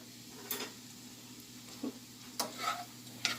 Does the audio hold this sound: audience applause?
no